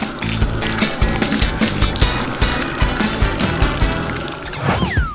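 Melted processed cheese, liquefied with a kitchen torch, pours over a bread bun as a thick, continuous liquid stream that is close and fairly loud. A short rising and falling whistle-like tone sounds near the end.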